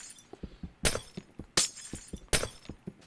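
Glass blocks in the video game Minecraft break one after another in sharp, bright shattering bursts at a steady rhythm, with softer clicks and taps between them and no talking.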